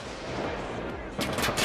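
RPK light machine gun fire in Payday 2, a short crackling burst of rapid shots that starts abruptly near the end after a low muffled stretch of game ambience.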